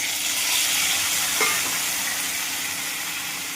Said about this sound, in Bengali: এবার হালকা করে ভেজে নেবো, বেশি ভাজবো না চিংড়ি মাছগুলো